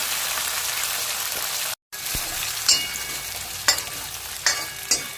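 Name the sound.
small onions frying in a pan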